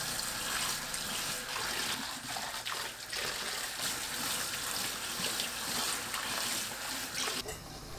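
A quartered napa cabbage is rinsed under running tap water, a steady close splashing and rushing stream that continues without a break.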